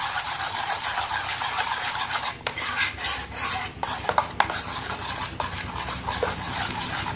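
Spoon clinks and scrapes steadily against a bowl while bael fruit pulp is stirred with milk and black salt, a close, continuous metallic stirring with a few sharper knocks, no voices.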